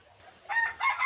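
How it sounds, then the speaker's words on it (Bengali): A heavy 6.5 kg rooster crows nearby in two quick, loud, strained bursts over a quiet background. "এটা একটা মোরগ"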